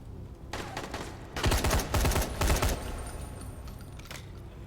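Rapid bursts of gunfire from the zombie survival game Dying Light, a loud cluster of automatic shots in the middle with scattered quieter shots before and after.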